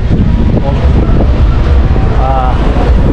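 Strong wind on Long Street in Cape Town buffets the microphone with a loud, constant low roar, and street noise and a voice sit faintly beneath it.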